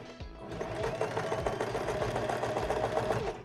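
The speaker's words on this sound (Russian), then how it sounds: "Разделим органайзер пополам закрепляющей строчкой." A sewing machine runs steadily, sewing a reinforcing line of stitches down the middle of a felt organizer; the motor's whirring hum and rapid stitch rhythm continue close and loud for about three seconds, with no talking.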